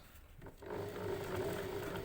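A sewing machine runs steadily as it stitches along the top of a bag opening to reinforce a strap. A brief quiet gives way to a continuous, fairly close motor drone with a light whirring hum.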